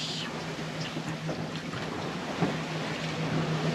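Wind blows steadily across the open sea aboard a sailboat, a broad rushing hiss with a faint low hum beneath, close and constant with no talk.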